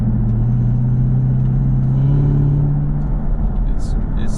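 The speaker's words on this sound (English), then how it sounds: "It kind of has that whistly noise, like not whistly, but the intake being, you know, intake air noise." A new ZL1 Camaro with a cold air intake fitted hums at a steady, loud idle-to-low-rev drone, a deep throaty rumble with a faint supercharger whine rising slightly midway, while a person talks over it.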